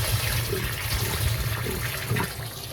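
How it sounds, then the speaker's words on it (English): Water runs steadily into a chicken's water container, a continuous low splashing fill that stays fairly even throughout. "Getting your water full. It's almost there."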